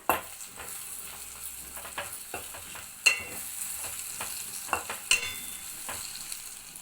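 Spice powder stirred into frying onions for an onion egg curry, a continuous sizzle broken by the scrape and clack of a spoon against the pan, several sharper knocks, close and with no voices.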